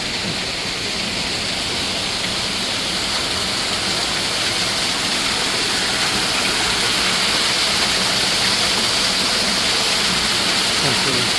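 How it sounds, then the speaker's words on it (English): Artificial waterfall inside a botanical garden conservatory, a loud, constant broadband rush of falling water that holds steady without pause, close to the listener. "Artificial waterfall"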